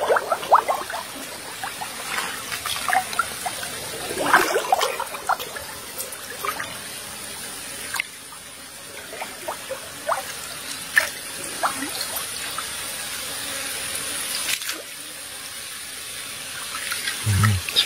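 A river flows through forest, its water steadily rushing and trickling close by, with faint voices and small splashes now and then.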